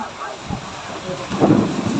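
Heavy rain pours over a football stadium, with a rumble of thunder building and swelling toward the end, broad and steady noise under a faint voice.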